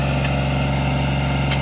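A rented Kubota BX25D compact tractor fitted with a backhoe idles close by, a steady, even engine drone with a strong low hum and no pauses.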